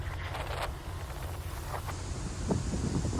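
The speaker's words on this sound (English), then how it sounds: "the wind really gusted up again" Wind gusts across an open golf course, a steady rushing roar buffeting the microphone, loud and continuous with no voices.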